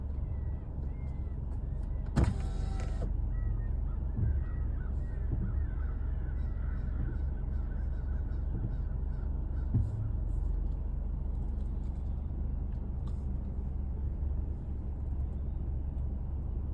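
Many birds calling outdoors at night, a scattered flock of caws and honks over a steady low rumble of traffic, fairly distant and continuous throughout.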